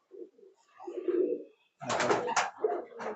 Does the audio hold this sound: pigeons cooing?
yes